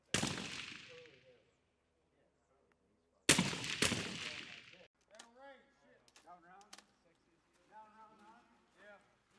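Rifle shots ring out at a range during weapon zeroing, with one loud report at the start and two more close together in the middle, each followed by a decaying echo, then people talking nearby.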